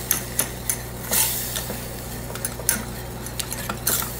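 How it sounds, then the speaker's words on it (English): Chocolate chips melting into ganache are stirred in a pan with a metal utensil, giving repeated close scraping clinks and swishes in an uneven rhythm, with no talk. "And once you stir it in, you have your chocolate ganache."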